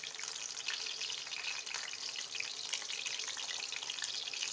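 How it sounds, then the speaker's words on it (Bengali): Pumpkin leaves frying in a pan make a soft, steady, hissing sizzle that stays fairly faint and even, with no talk over it. "উল্টিয়ে পাল্টিয়ে এভাবে ভেজে নিতে হবে।"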